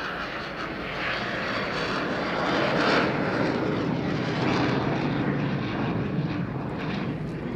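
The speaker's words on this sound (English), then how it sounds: "He'll transition from the slow speed pass with the gear down, plug the reheat in and climb ahead for a half horizontal." A Eurofighter Typhoon flies a display at the 2016 Scottish International Air Show, climbing away on reheat after a slow gear-down pass. Its steady, loud, broad jet roar fills the whole stretch and swells slightly midway, with no talk.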